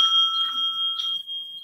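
A single bell rung by a debate timekeeper, a bright sustained ring with a clear tone that lingers and slowly fades, heard alone without talk.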